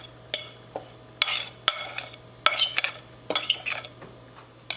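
A spoon stirs chayote with lemon juice and a spice mixture in a bowl, giving a run of irregular clinks and scrapes against the dish, close and fairly sharp, with no talk.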